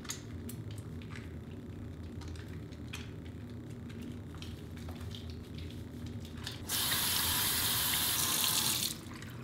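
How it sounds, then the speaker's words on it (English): Hands are washed under a running kitchen or bathroom tap, a steady close rush of water that swells louder and brighter for a couple of seconds near the end. "The most important thing is to wash your hands often"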